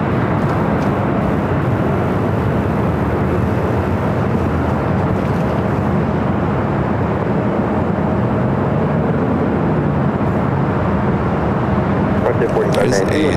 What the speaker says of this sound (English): Frontier A320 Neo lined up 24 left.